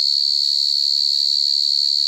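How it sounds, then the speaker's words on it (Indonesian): A cricket chirps loudly and continuously in a steady, piercing trill close by, emerging from its burrow, with faint low background rumble beneath. "Memang hebat suara jangkrik."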